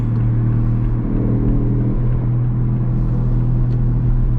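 Big-turbo 750 whp Toyota Supra pulling hard on a night drive in South Korea, its engine a steady, loud low drone and rumble that holds for several seconds with no talk over it.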